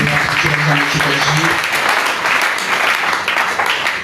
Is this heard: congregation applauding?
yes